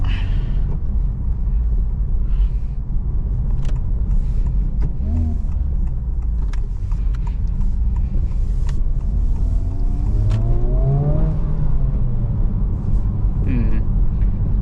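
A Honda Civic Type R FL5 fitted with a Spoon Sports intake filter gives a steady, loud low engine rumble from inside the car, with the revs rising and falling briefly near the end.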